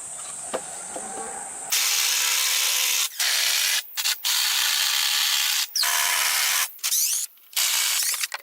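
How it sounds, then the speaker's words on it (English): A power drill whirs in loud, sustained bursts, pausing briefly between runs as large screws are driven into wooden planks, with no talking. "Large screws are being attached with a drill machine so that the planks do not move."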